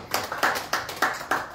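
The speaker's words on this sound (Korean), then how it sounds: "박수 한번 보내주시죠." Audience at a life-school class session clapping, about six distinct, slightly uneven claps spaced roughly a third of a second apart, moderately close and without talk.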